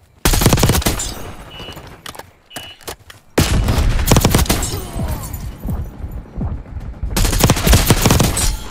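Rapid automatic gunfire bursts in Call of Duty Black Ops 6 rattle loud and close, broken by short pauses and scattered thuds, with game voice callouts faintly under the shooting.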